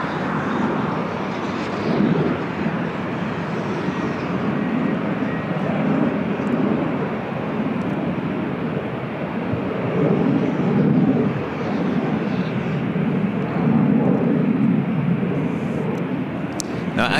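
Lufthansa Boeing 747 jet at LAX makes a steady, loud engine roar that holds throughout with slight swells, continuous rumbling broadband noise and no break.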